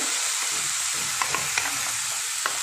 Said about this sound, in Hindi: सभी सब्जियों को बहुत अच्छी तरह से फ्राई करना है